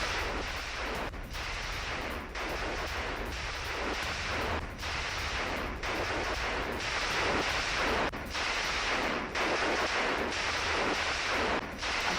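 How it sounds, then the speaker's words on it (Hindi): Gunfire from an Israeli army ground operation in Lebanon, aimed at a house where fighters were hiding: loud, continuous bursts of shots and booming reports, fairly close, with no talk over them. "जहां मकान में छिपे हिजबुल्लाह के लड़ाकों पर फायरिंग कैसे की गई देखिए"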